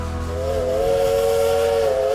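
Whistle of the coal-fired steam locomotive Dollywood Express at a theme park, one long, loud, steady tonal blast with a hissing edge, sounding close and alone.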